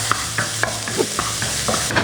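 Garlic sautéing in a pan for Korean spicy noodle soup (jjampong), a steady close sizzle broken by a few light scrapes of a spatula or spoon stirring.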